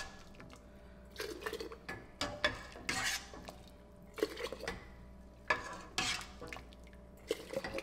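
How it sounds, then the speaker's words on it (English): A ladle dips and scrapes in a cooking pot as pickling brine is scooped out, producing irregular metallic clinks and knocks with brief liquid sloshes and pours between them, close and fairly quiet. "I'm gonna remove half of this brine from this pot, because we only needed half of it."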